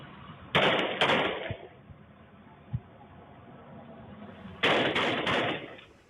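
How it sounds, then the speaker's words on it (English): Gunshots fired by a suspect on a bike at two men on a sidewalk on Florida Avenue, caught in street news footage: an opening pair of sharp cracks, a fainter pop in the middle, then a tight burst of several rapid shots, all over steady background noise. "He pulls out a gun, shoots at both men."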